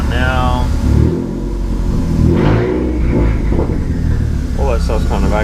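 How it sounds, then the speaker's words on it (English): Renault Clio 4 RS engine on a dyno, running with a low steady engine rumble and brief rises in pitch, while people talk over it throughout. "So start the car now."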